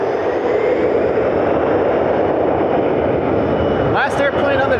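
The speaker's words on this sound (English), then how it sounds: "Last airplane of the night." A Jazz airliner bound for Toronto passing at Cleveland Hopkins airport at night, a steady loud broadband jet roar that holds throughout, with a brief higher whine rising near the end.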